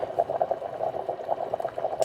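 Water at a rolling boil cooking meatballs and vegetables bubbles in a continuous, lively burble, close and steady without talk.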